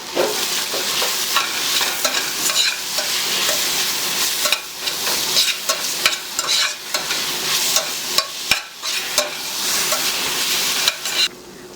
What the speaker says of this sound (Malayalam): ഇഞ്ചി വെളുത്തുള്ളി പച്ചമുളക് പേസ്റ്റ് ചേർത്ത് കൊടുക്കാം ഇത് നന്നായിട്ടൊന്ന് വഴറ്റി കൊടുക്കാം